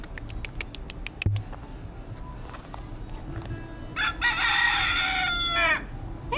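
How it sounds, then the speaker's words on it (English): A rooster in Key West crows once, loud and close, its strained call rising after a stretch of light tapping, clucks and outdoor background noise. "Hey, Mr. Rooster."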